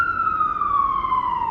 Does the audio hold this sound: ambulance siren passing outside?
yes